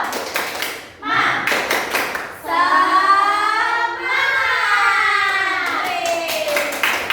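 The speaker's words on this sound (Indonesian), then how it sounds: "ibu akan memberikan kalian tepuk semangat" A first-grade elementary class follows its teacher in a rhythmic clapping chant: quick bursts of patterned claps, then young voices chanting loudly together in a long sustained shout, with a few more claps at the end.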